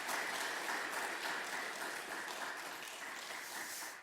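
Congregation applauding during a Korean church Sunday service, a steady wash of clapping from many hands that stays fairly even and slowly tapers over a few seconds.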